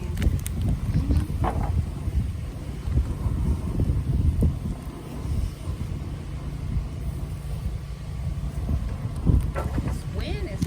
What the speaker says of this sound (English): This wind is serious.